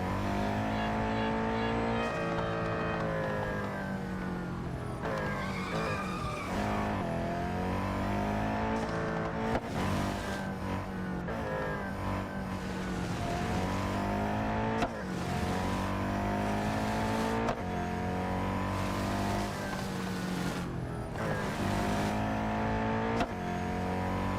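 Acura ARX-06 prototype race car engine in the mobile racing game Real Racing 3, revving hard with repeated upshifts and lift-offs in a loud continuous whine and growl, someone talking faintly at times.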